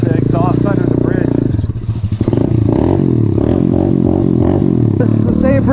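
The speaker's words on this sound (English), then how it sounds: "let's hear out the exhaust under the bridge." A Coolster 125cc pit bike exhaust echoes beneath a desert bridge, a loud, steady engine drone with a brief dip and recovery midway, close up and continuous throughout.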